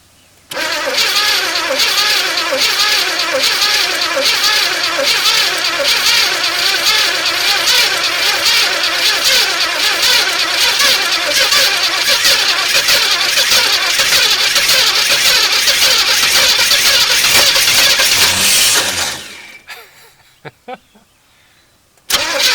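A 1981 El Camino that sat on a trailer for 21 years cranks on its starter for about eighteen seconds, a loud steady grinding rhythm with the engine trying to catch, then stopping abruptly into near silence with a few faint knocks.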